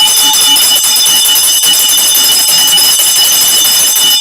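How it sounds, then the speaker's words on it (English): A loud, sustained electric bell rings continuously with a bright metallic clang, steady and unbroken throughout. "let me ring the bell for Grace"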